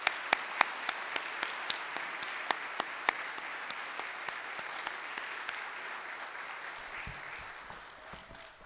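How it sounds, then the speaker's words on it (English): A church audience gives a sustained round of applause for a group of men, dense even clapping with a few sharp nearby claps standing out, gradually thinning toward the end. "we need to give these men a great hand of applause"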